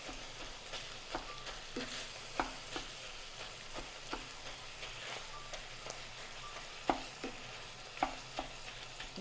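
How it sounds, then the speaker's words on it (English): Browning sausage and ground beef crackles and sizzles steadily in a pan for Cajun dirty rice, with a mix-and-chop tool scraping and tapping the meat into pieces at irregular intervals, close up and with no voices. "And I'm chopping it with my mixing chop."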